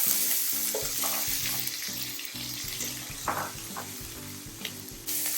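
Steady sizzling of onions frying in a hot pan, with occasional stirring scrapes and clinks, close and continuous.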